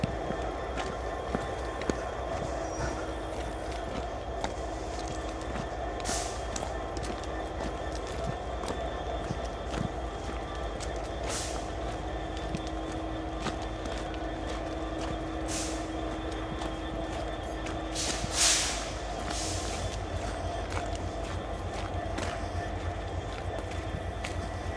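Norfolk Southern freight train rolling past nearby with a constant low rumble and steady wheel clatter. Occasional sharp clicks and a faint squeal sound over it throughout.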